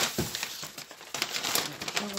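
Sheets of already crumpled paper being handled, giving brief crinkling rustles in irregular bursts at close range, with no one talking over them.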